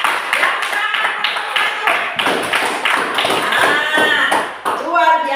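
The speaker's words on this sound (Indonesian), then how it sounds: "Tepuk tangan yang kedua." A school class claps its hands together in patterned bursts of rhythmic claps and taps while children's voices call and chant between and over the beats, loud and close in a classroom.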